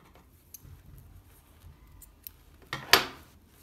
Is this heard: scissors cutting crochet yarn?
yes